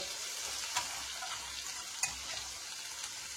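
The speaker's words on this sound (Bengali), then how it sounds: "এবারে আমি এর মধ্যে দিয়ে দিলাম পেঁয়াজ কুচি। পেঁয়াজটাকে একটু হালকা লাল লাল করে প্রথমে ভেজে নেব।" Chopped onions hit hot tempered oil in a pan and sizzle steadily, a continuous hiss with a few sharp crackles and pops standing out, no voices.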